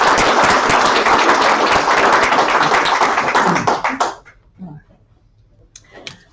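A lecture audience at a Royal Society of Tasmania AGM claps steadily to welcome the speaker, a dense, even round of applause that thins into a few scattered claps and then fades.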